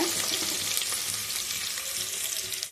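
Loud, steady sizzling of a chopped onion frying in a hot pan up close for jackfruit seed biryani, with light stirring, stopping abruptly at the end.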